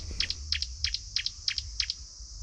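Repeated high chirps from birds in a calm village, short paired notes coming in a steady rhythm roughly twice a second, clear and close against faint low ambient noise.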